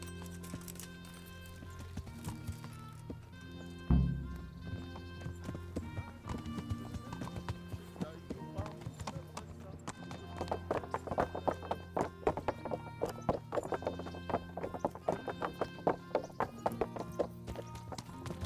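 Horse hooves clip-clop in the medieval video game Kingdom Come: Deliverance. A quick, steady rhythm of hoofbeats grows busier over a music bed, and a brief whinny is heard near the start.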